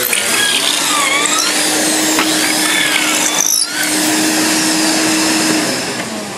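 Steady whirring power drill driving screws into pre-piloted holes at a tool expo, running continuously with a constant motor tone and small pitch dips, loud and close with no talk.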